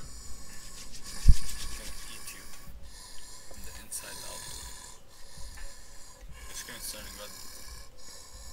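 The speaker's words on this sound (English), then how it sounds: "I don't know, but something's breathing." A monster breathing in the horror video game Lights Off, slow, heavy, rasping snort-like breaths that come in spaced waves, close and fairly quiet, with a sharp thud early on.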